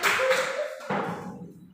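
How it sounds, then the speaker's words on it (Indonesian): A classroom of students breaks into a short round of clapping that begins at full strength and trails off toward the end, with a faint voice tone sounding briefly underneath. "Tepuk tangan dulu."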